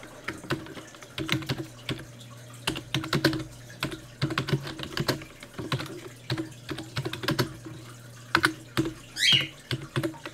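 Rapid, irregular clatter of keys typed on a computer keyboard, close and clear, coming in bursts with short pauses and no talk over it.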